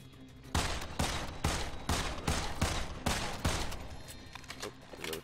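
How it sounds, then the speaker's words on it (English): Sniper gunfire rings out in the Immortal Redneck video game, about eight loud, evenly spaced shots in quick succession, each with a short echoing tail, fading to a few softer sounds at the end. "Sniper shooting me over here."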